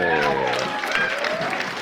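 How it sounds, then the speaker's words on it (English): A billiards exhibition crowd at Amsterdam Billiards erupts in loud cheering and applause, dense and sustained through the whole stretch, with excited voices mixed into the roar. "I think we're about to hear the crowd go wild"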